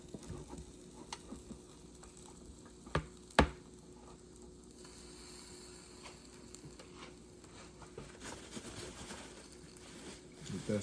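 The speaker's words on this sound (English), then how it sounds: "You hear that sizzle?" Food cooks in butter in a pan, giving a faint, continuous sizzle and crackle with a couple of sharp clicks and scraping stirs, quiet throughout.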